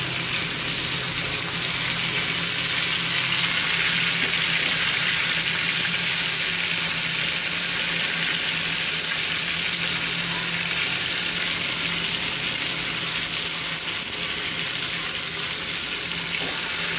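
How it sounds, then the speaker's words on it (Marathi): Surmai (kingfish) steaks frying in a pan, a steady close hiss of sizzling oil running without a break for the whole stretch with no voices. "छान मस्तपैकी मच्छी भाजून घ्यायची"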